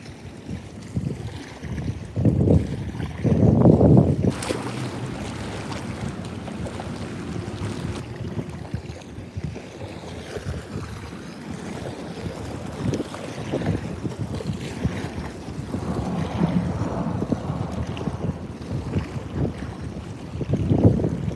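Steady wind gusts and roars across the microphone aboard a fishing boat out for crappie, a continuous loud rumble with a few stronger buffets and no talk.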